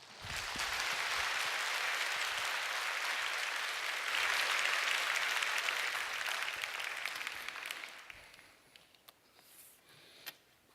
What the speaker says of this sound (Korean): 우리 강사님 나오실 때 큰 박수로 맞이하겠습니다.